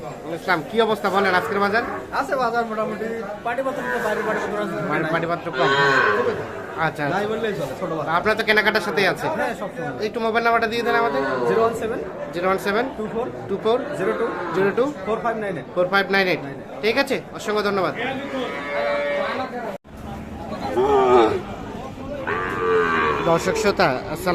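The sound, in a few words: calves mooing at a cattle market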